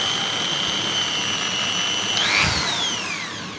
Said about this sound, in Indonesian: Saya gunakan alat bor ini dengan adaptor buat alat poles ya.